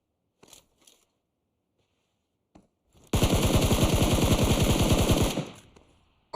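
A long, loud burst of rapid automatic gunshots in a PUBG Mobile tournament match, with steady closely spaced shots lasting about two seconds after a few faint earlier sounds, then fading out.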